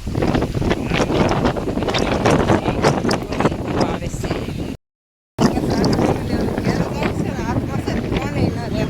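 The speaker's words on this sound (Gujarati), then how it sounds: "પવન એટલો જોરદાર છે" Heavy wind buffets the microphone in constant roaring gusts in an okra field, broken by a brief dropout, while a person speaks briefly underneath.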